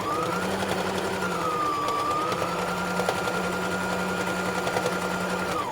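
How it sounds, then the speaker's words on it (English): A sewing machine runs steadily and close by, stitching the side of a fabric door draft stopper with an unbroken mechanical whir and a sustained tone throughout. "I'm gonna go ahead and sew this side here together."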